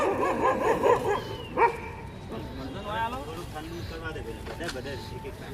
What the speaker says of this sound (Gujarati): કૂતરા ખાસે બધા આવી ગયા છે જુઓ